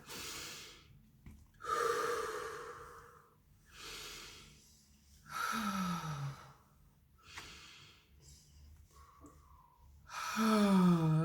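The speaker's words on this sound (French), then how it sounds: "on inspire profondément" Slow, deep breaths during a morning breathing routine: several long inhales and exhales, some with a sighing, snorting quality, spaced by pauses, close and fairly loud.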